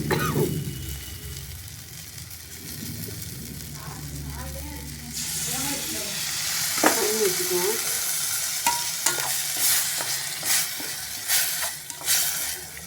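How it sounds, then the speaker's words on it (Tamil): Vegetables for vendikai pachadi (okra) sizzle and hiss in a hot pan with steady frying noise, punctuated by occasional scrapes and stirring clatter. "வதக்கி வச்சுக்குவோம்."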